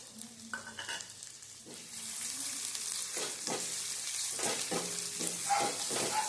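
Onion dropped into hot oil while making Manchurian, a soft sizzle swelling into a steady fry as it goes in, with a few pan knocks and stirring scrapes and no voices.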